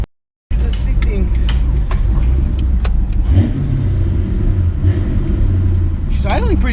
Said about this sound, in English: She's idling pretty good right now.